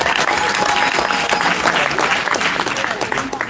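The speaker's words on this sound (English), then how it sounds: "So a round of applause to them." Lively crowd applause at a cricket academy awards gathering for an under-11 winning team, thick and continuous with a busy murmur of voices mixed in.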